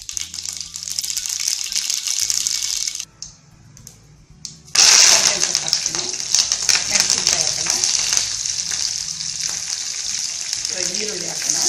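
Mustard seeds sizzling in hot oil for a tempering, a bright steady crackle and hiss that drops away briefly and then returns loudly, with faint voice nearby.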